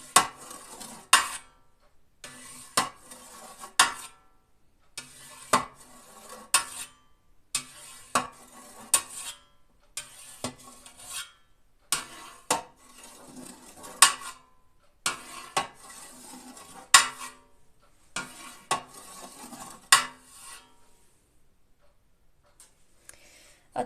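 A knife cuts through soft cheese curd for Caciotta, scraping against a pot in about ten separate bursts of cutting strokes, each burst followed by a brief pause, close and moderately loud with no talking.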